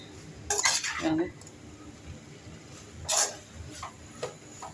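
Sausage noodles are stirred and mixed in a pan, with a few sharp metal-on-pan clinks and scrapes in short bursts separated by quieter gaps.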